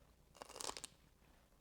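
A crunchy celery stick topped with creamed tuna or salmon is bitten and chewed, a short burst of crisp crunches followed by a faint later crunch, close and quiet.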